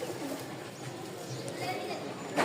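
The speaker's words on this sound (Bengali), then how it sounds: "আর একটা জোড়া কবুতর দেখাই" Pigeons kept in pairs coo softly and intermittently as someone talks over them, with bird rustles and low murmuring throughout.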